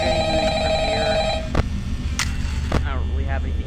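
Telephone ringing inside the horror video game Five Nights at Freddy's, a steady electronic ring tone running through the opening second and a half over a constant game drone, with a person talking over it afterward.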